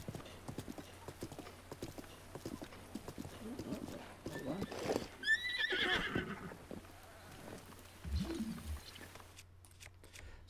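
A horse in the game Breath of the Wild: steady clip-clop of hooves throughout, with a high whinny in the middle and a low snort near the end, while someone talks over it.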